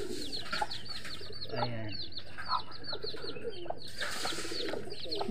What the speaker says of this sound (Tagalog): Talagang kalapati.